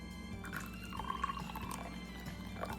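Bragg's apple cider vinegar is poured over tinned sardines, a short, quiet trickle of liquid heard alone.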